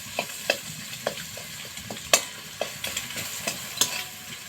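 Boiled eggs being stirred into a curry in a pan with a spatula, giving a steady run of soft scraping strokes and light clacks over a low, continuous sizzle, close and alone with no talk.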